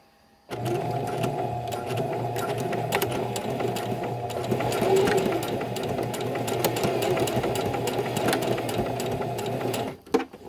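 A sewing machine runs steadily for about nine seconds, stitching elastic forward and then back over it, a loud continuous whirring motor hum with no talking, stopping abruptly near the end.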